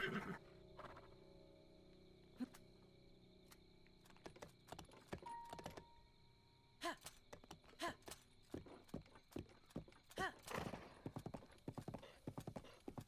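Horse hooves clip-clop in Zelda Breath of the Wild, an uneven series of sharp thuds that grows quicker and denser toward the end, moderately close, with faint background game sounds.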